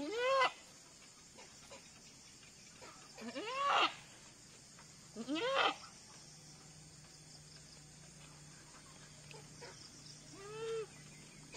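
A newborn goat kid bleats several times at intervals during birth, fairly close, with quiet stretches between calls and faint background hum.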